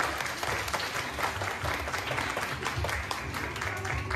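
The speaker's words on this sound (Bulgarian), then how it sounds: "Аплодисменти за тях." An audience claps for first-grade children at a school letters celebration, a fairly quiet but continuous patter of applause with a low rumble of room noise beneath it.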